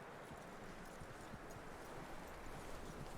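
Horse hooves in the video game Red Dead Redemption 2, a faint clip-clop of steady footfalls under a soft, continuous outdoor ambience.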